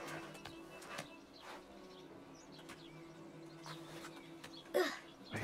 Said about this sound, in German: Vogel!